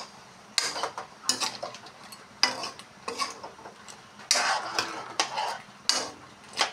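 A spoon stirs fried potatoes into simmering crab curry broth in a pot, bursts of scraping and clinking at irregular intervals over a low bubbling background, close and fairly quiet.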